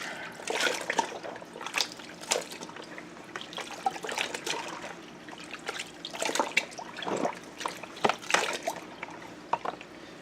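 Water in a kitchen being stirred and agitated with a spoon, giving irregular splashy sloshes and trickling bursts close by, with no one talking.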